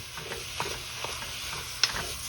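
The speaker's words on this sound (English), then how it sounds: "Now we're gonna add our chili meat to this. We're gonna get a nice, good brown color on it." Chili meat browns in a pot with a soft, continuous sizzle and faint stirring scrapes, quiet and close with no talking.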